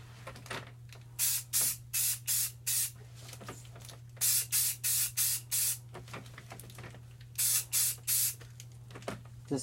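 Short bursts of spray paint hiss onto Necromunda Zone Mortalis floor tiles, coming in rapid clusters of quick, evenly spaced puffs separated by brief pauses.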